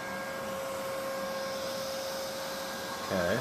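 A Neato D85 robot vacuum cleans a kitchen floor, giving a steady droning whir with a thin constant whine, heard at moderate distance. Near the end the sound turns briefly louder and rougher.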